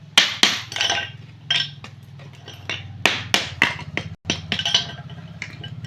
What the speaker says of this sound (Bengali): টপটা ফাটিয়ে দিই, টপটা ফাটাতেই হলো।